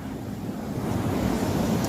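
Ocean waves washing up on shore outdoors, a steady surging rush mixed with wind noise on the microphone, rising slightly as the water comes in.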